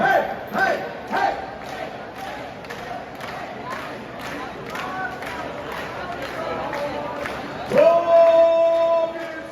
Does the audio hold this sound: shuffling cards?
no